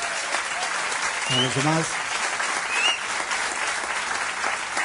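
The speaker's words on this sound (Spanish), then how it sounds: "Os pido un aplauso." An audience breaks into steady, full applause at the close of a Spanish mystery radio special, a dense wash of clapping throughout while someone speaks briefly over it.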